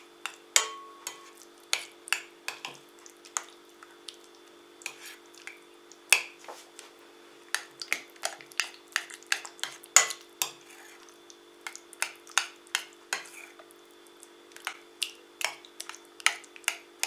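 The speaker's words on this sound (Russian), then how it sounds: "И все это перемешиваем." Batter with soft margarine for a raspberry pie is stirred by hand, producing a long series of sharp, irregular clicks and taps of a spoon against the bowl over a faint constant hum.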